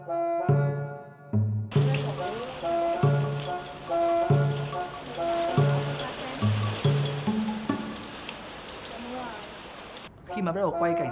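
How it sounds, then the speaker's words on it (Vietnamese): Heavy rain pours down in a steady, dense hiss throughout a music video shoot, with music and voices carrying over the downpour before it cuts off near the end. "trời bắt đầu đổ mưa và mưa rất to"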